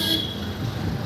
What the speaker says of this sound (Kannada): ಹಾರನ್ ಮಾಡ್ತಾ ಇರೋದು